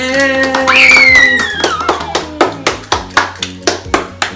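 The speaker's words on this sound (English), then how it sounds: "Give a round of applause for Solar Reflex." A family claps for the winning car after a Hot Wheels race on a homemade downstairs track; a cheer opens, then a steady run of about a dozen crisp, close claps follows.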